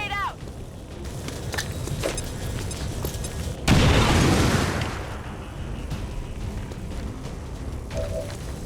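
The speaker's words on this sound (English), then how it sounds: "Grenade out!" A grenade blast in the XCOM 2 game, a sudden loud broadband boom that swells and then fades over about a second, set against steady battle ambience with a voice speaking around it.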